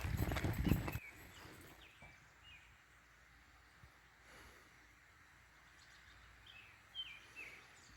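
Horse hooves clip-clop on a trail ride in the Great Smoky Mountains at Deep Creek, a loud burst up close at first, then sparse soft steps, with birds chirping in the background.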